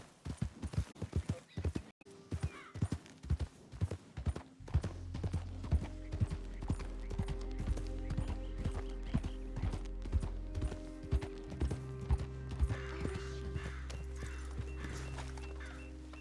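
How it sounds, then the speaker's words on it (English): Hooves of a horse in Red Dead Redemption 2 clip-clop in a steady, even rhythm, close and clear, first alone and then over a low sustained background hum that enters partway through. "Now, can I feed the horse?"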